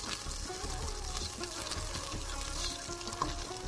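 Whole garam masala spices fry with onions in a hot pan, giving a soft, steady sizzle with faint stirring scrapes throughout.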